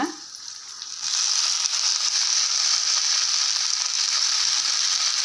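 A steady, loud sizzle of tomatoes and chillies frying in a hot pan, continuous crackling hiss that swells after the first second and holds with no talking.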